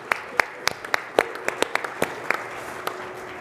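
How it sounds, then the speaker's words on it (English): A small audience claps at the ProMat 2023 trade show in Chicago. The applause is sparse and scattered, with distinct individual claps close together over a few seconds, and a faint voice sits beneath them. "A little round of applause"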